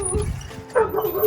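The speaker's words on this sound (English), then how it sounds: "Oh, I can't wait to see my dog." A dog yips and barks excitedly in a few short bursts at close range, with some background noise and possible voice underneath.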